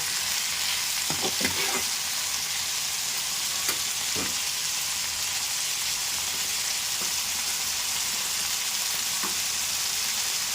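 A spatula scrapes and stirs broad beans in a sizzling tomato curry in a pan, with steady frying hiss and a few clinking stirring strokes, up close and without talk.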